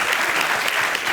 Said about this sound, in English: let's give a round of applause to all the teams that participated in the competition this year